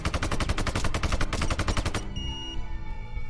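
Rapid automatic gunfire from the video game Sniper Ghost Warrior 2 rattles loudly in a dense, steady burst for about two seconds. The shots then cut off and leave a ringing, echoing tail.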